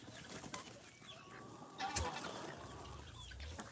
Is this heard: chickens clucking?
yes